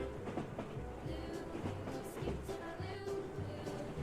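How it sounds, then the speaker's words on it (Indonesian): A train rolls along rails through snowy mountain country, with a steady rhythmic clickety-clack of wheels over rail joints and a low running rumble, heard from inside the carriage. "Kereta kita akan belok kiri teman-teman."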